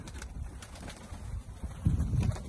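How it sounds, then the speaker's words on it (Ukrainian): Pigeons coo softly with low throaty calls near the end, amid rustling and a few wing flutters close by. "Приїхала до голубів, випустила їх, покормлю, погуляють."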